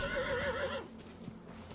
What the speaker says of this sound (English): jump off your horse.